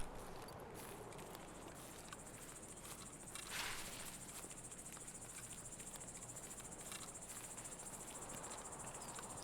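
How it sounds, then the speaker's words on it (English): Cicada chirping in Escape From Tarkov, a steady high-pitched buzzing drone that runs for the whole stretch over low outdoor ambience, with a brief louder swell partway through. "Curse you, cicada!"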